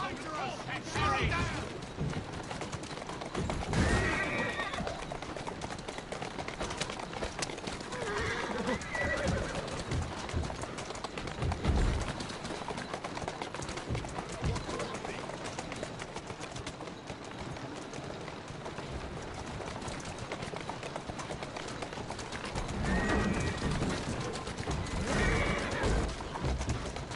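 In Assassin's Creed, a horse whinnies and neighs while hooves clip-clop at a gallop, with sharp neigh bursts standing out over continuous hoofbeats and game ambience, and a voice talking at times.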